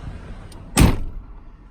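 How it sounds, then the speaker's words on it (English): A 2004 Mercury Grand Marquis car door shuts once with a solid, heavy thud, close and loud, with a short latch click just before it and no voices. "Let's go ahead and shut the door."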